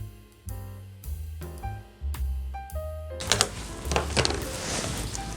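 A sewing machine stitches single-layer petticoat fabric in short bursts of rapid mechanical whirring separated by brief pauses, followed by a busier stretch of clatter and handling noise near the end.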